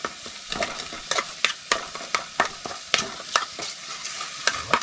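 Food frying in a pan over an open fire at an indigenous village, crackling sizzle punctuated by sharp regular scrapes and knocks of a utensil stirring, close and fairly quiet.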